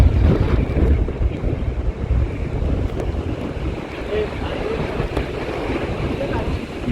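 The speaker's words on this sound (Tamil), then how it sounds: "காற்று பயங்கரமாக தள்ளுதுங்க பாருங்க." Strong wind at the Aliyar viewpoint near Valparai gusts hard and loud against the microphone in continuous rumbling buffets that rise and fall over several seconds.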